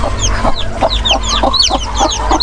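A Rhode Island Brahma hen clucks in quick repeated bursts, several short throaty calls in a loose rhythm, close and loud with other chicken sounds around.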